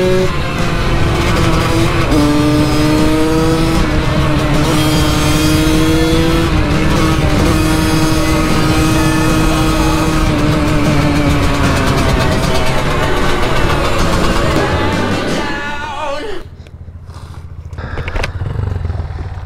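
A Yamaha YZ85 dirt bike engine roars loud and close while riding, holding a high, slightly rising revving pitch before dropping off near the end, with people talking over it.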